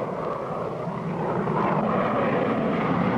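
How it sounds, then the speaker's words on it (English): A propeller plane flying in a 1959 cartoon chase, its steady engine drone loud and continuous throughout with no pauses. "I see Hatchett's plane now."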